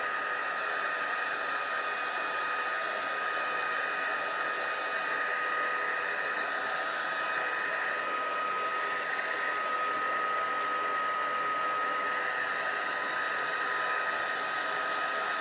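A heat tool blows hot air onto lightweight black foil in a crafting project, a constant, steady whirring hum like a hair dryer, with no talking.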